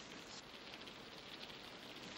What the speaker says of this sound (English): It's pouring, cats and dogs.